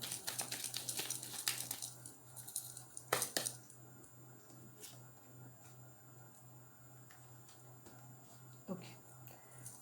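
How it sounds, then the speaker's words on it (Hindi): Tarot cards are shuffled by hand: a crisp burst of rapid riffling and flicking over the first few seconds, then softer card handling with a steady low hum beneath. "final shuffle"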